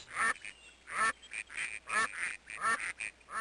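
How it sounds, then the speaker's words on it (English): Ducks quack repeatedly in a rapid, loud, close series of nasal calls, several overlapping with short gaps, with no talking over them. "Ducks."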